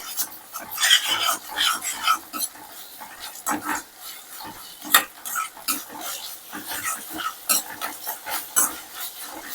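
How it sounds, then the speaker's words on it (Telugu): Ginger garlic paste for a mushroom curry is stirred in a pan, making irregular scraping and sticky rasping bursts in uneven strokes, close and fairly loud, with short quiet gaps between them. "ఇప్పుడు ఇది కలుపుకుందాం బాగా"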